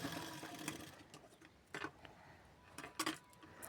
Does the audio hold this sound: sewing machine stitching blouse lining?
yes